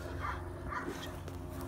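A Dutch shepherd during open-body bite work training gives short whimpering yips and muffled barks, faint and somewhat distant, over steady background noise.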